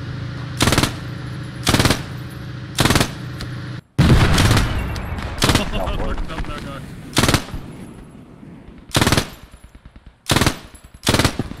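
MG 42 machine gun in the WWII shooter Post Scriptum, loud close bursts repeating about eight times with short pauses, one longer sustained volley in the middle, a voice talking faintly between them.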